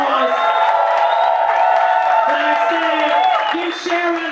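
A live comedy-show audience cheers and whoops loudly over steady applause, with high shouting voices rising and falling throughout.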